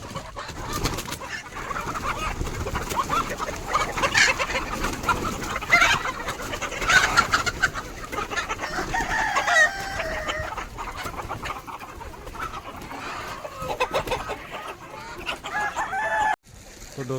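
Chickens on a farm cluck and squawk together in a busy, noisy chorus, calling to be let out, with a rooster crowing among them and a brief clatter near the end.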